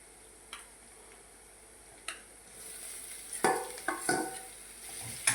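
Grated raw potatoes added to a pan for batata poha, a faint sizzle with several scraping stirs and soft knocks against the pan growing busier toward the end.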